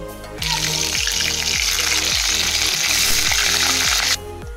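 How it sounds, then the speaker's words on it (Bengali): Crab pieces frying in hot oil in a home kitchen give off a loud, continuous, close-up sizzle that starts abruptly and stops abruptly, over a faint background of music, with no talking. "এবার কাঁকড়াগুলো আমি ভেজে নেব।"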